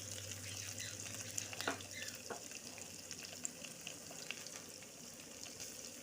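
Onion and chilies fry in oil in a wok with panch phoron and a bay leaf, a quiet, steady close sizzle with a few brief stirring clinks.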